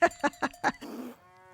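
Several short, rhythmic cow moos in quick succession, followed by a brief lower drawn-out bellow and a fading tonal tail, close and clean like an inserted sound effect.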